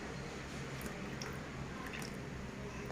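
Water is stirred into ragi flour in a bowl, giving soft wet squishing and faint drips over a steady low hiss, close and continuous, without talking.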